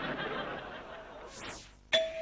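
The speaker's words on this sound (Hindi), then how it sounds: "घंटी बजते हुए बहुत देर हो रही है" A doorbell rings once near the end with a sharp, bright strike and a sustained ringing tone, following a sweeping electronic sound effect over steady background noise in a Lahori comedy drama scene.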